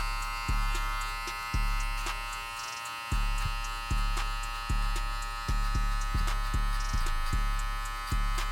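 Electric hair clippers fitted with a one guard buzz through hair during a fade haircut, the steady motor hum broken by repeated short strokes in a regular rhythm, close and alone.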